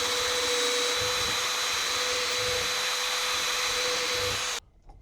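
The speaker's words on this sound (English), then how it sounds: "Hole is drilled all the way through." Power drill bores steadily through steel on a homestead, a loud continuous high whine that cuts off abruptly at the end as the bit breaks through.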